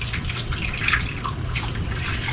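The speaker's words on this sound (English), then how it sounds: "I'm just gonna carefully pour the water around it." Water is poured carefully into a baking pan around a meatloaf, giving a steady, close splashing trickle that runs for the whole stretch with no talking.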